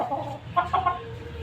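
A fighting rooster clucks in a few short, close, throaty bursts, clear against a quiet outdoor background.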